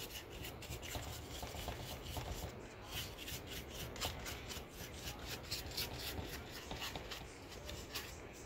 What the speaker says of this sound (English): get a paintbrush, you brush all this stuff off like this